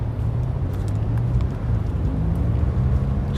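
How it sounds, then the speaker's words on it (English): Cars passing on a downtown San Diego street, a continuous low traffic rumble with a steady roadway hum, moderately loud and close, no voices. "Just a lot of cars flying by all the time."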